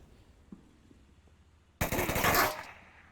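Gunfire during a competitive match in the VR military shooter Onward: after a quiet stretch with a faint distant pop, a sudden loud rapid burst of automatic fire rattles for under a second, then fades.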